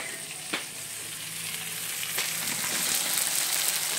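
Cumin seeds sizzle in hot oil while poha is cooked, a steady bright frying hiss held at an even level throughout, with a couple of brief clicks from a utensil and no talking.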